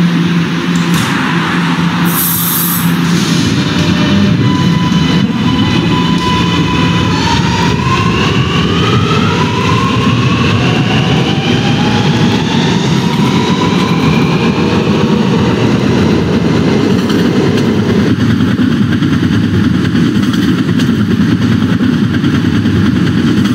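PTA R train running on the N line toward Ridgeworth Island, a loud continuous rumble of the moving subway car with rising whining motor tones, steady throughout and without speech.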